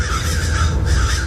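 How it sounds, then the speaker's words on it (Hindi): Crows cawing over a sugarcane field, a harsh, steady chorus of repeated caws filling a horror story scene, loud and close with no speech. "वही कौवे थे जिन्हें अभी अभी सपने में उसने देखा था।"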